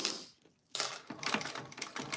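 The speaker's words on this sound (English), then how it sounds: "now I'm going to sew around all the edges" A sewing machine stitches around the edges of a fabric piece, a steady rapid mechanical rattle that starts after a short pause and runs on close by, with no talking.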